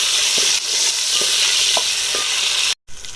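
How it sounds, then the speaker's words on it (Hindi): Chopped tomatoes cooking in a pan for mutton pulao, a loud continuous sizzle close by with faint scrapes of a spoon and a brief cut to silence near the end. "अब इसको टमाटर को कुक कर लेते हैं"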